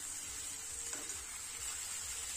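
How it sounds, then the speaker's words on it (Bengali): Pumpkin, potato and prawn curry sizzles steadily in a pan as it is stirred, a soft continuous frying hiss with a faint scrape partway through and no voices. "দেখুন, খুব ভালোভাবে আরও 2 থেকে 3 মিনিট নাড়াচাড়া করে নিচ্ছি"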